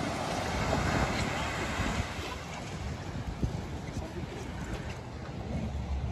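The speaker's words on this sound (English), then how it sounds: "See the waves down there." Ocean waves washing below a pier at night, a steady broadband surf wash mixed with wind noise buffeting the microphone, fairly faint and continuous with a few soft thumps.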